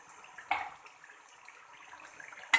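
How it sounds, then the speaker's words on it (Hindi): Water from a glass splashes into mutton frying in a karahi, giving a sharp hissing burst that settles into a low, steady sizzle, with a second brief burst at the very end. "अब हम इसमें 1 गिलास पानी का डालेंगे।"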